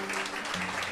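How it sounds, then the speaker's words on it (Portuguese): Church congregation applauding during a Sunday morning family service, a continuous dense roar of clapping filling the whole second, with a low sustained tone beneath it. "Dê um aplauso a Jesus."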